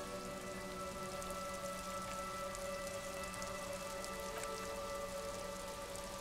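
Rain ambience in the video game Disco Elysium, a soft continuous patter of drops over a low steady hum and faint tonal background, quiet and unbroken with no speech.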